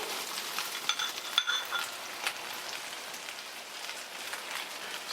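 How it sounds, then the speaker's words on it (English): Beaten eggs hiss and crackle in a hot frying pan for an omelet with caramelized vegetables, a steady close-up sizzle with scattered pops. "Add in the beaten egg."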